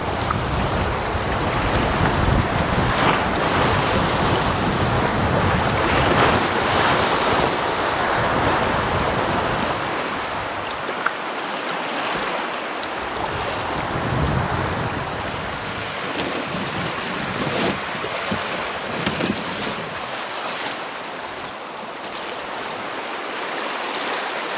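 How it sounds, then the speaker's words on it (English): Wind roars steadily over open water on Black Bay as waves slosh and break around a paddled boat, loud and continuous with heavy wind buffeting the microphone throughout. "Fighting the wind again, coming up the other side of Edward Island."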